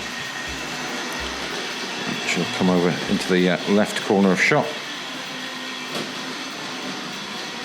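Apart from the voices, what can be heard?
Tri-ang Hornby Railway Children model train running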